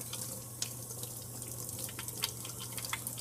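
Tap water runs steadily into a sink while a dirty paint brush is rinsed, a continuous close hiss with small splashes and drips scattered through it.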